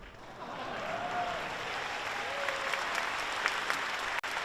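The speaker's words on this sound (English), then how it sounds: "a round of applause for our pre-game show superstars" A large keynote audience at Computex in Taiwan applauds the pre-game show performers, with a wide, even wash of clapping that swells slightly, heard from a distance in a big hall.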